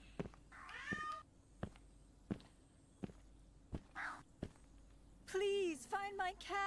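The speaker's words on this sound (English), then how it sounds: "I should be able to catch the cat." A cat in a video game meows several times in short, rising cries, mixed with sharp clicking steps and game sounds, fairly close and clear, with a voice talking at times.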